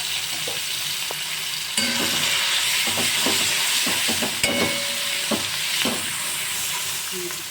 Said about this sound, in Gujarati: હવે આપણે બધું જ સાંતળી લેશું